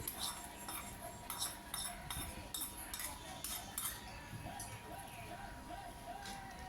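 A spoon scrapes and clinks against a cooking pot while drumstick aviyal, topped with a tempering of shallots and curry leaves, is mixed. The tapping is irregular, close and clear, and grows softer toward the end.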